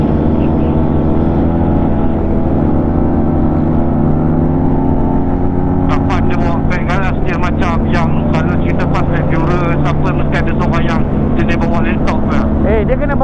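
A steady, loud engine rumble runs throughout as a lorry passes close, with excited voices talking over it in the second half.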